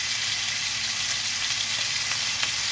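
A lamb chop sizzles steadily in a hot pan, a loud, continuous bright crackle of fat and juices with no voices.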